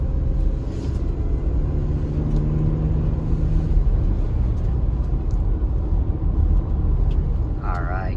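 A 2015 Ford Transit 350 passenger van accelerating, its engine rumble steady and close throughout with a rising tone early on, heard from inside the cabin.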